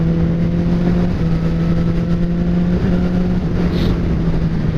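Motorcycle fitted with a Healtech quickshifter running at low road speed, a steady engine drone with a constant low hum and a few slight dips where gears change, loud and close throughout.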